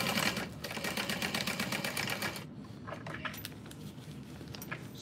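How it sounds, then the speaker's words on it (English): A sewing machine runs steadily along a backpack seam, a close, fairly quiet rapid patter that thins into lighter ticks and stops near the end. "You're going to sew half inch seam allowance just until this seam"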